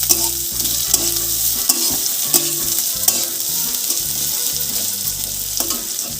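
Chopped onion frying in a pan for a snake gourd dish, a steady bright sizzle running throughout with occasional sharp clicks and scrapes of stirring, close and fairly loud, no voices.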